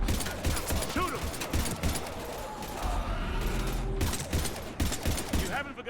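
Gunfire in Mass Effect Legendary Edition III, a dense stream of shots and impacts over a busy battle backdrop, with voices talking amid the fighting.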